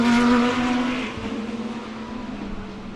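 BMW Z4 and Porsche race cars compete in a South African GT championship race, one engine droning loudly and close, then falling in pitch and fading slightly as it sweeps past.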